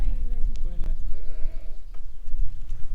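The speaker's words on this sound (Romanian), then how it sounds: "Uite ce oi drăguțe." Sheep bleat several times, close by, as a walker passes through a rural Romanian village on a Sunday along the Mureș valley, with steady outdoor noise underneath.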